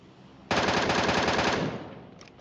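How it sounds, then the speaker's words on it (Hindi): A rapid burst of automatic gunfire in PUBG Mobile, about a second of fast, evenly spaced shots, close and loud, then a short fading tail. "अब आखिरकार मैं गोलियां चला सकता हूं"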